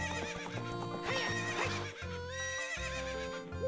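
Horse in the Zelda Ocarina of Time video game, loud repeated whinnies and neighs rising and falling close up, with hoof clip-clops underneath.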